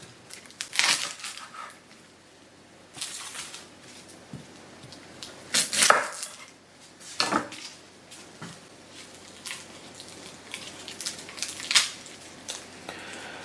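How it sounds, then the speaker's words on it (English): Garden garlic being prepped on a cutting board in a kitchen: a handful of separate sharp knocks and crunchy cuts at irregular intervals, close by, with quiet pauses between them. "the first thing I'm going to do is prep my garlic"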